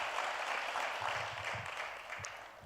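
A church congregation applauds in a steady, muffled burst of clapping that fades slightly toward the end, heard from some distance.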